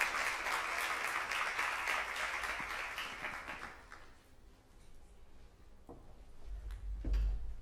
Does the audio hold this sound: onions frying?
no